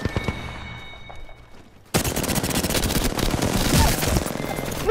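Rapid automatic gunfire erupts in the shooter game Apex Legends, a dense sustained burst of loud shots that follows a quieter stretch of ambient game sound with scattered faint shots.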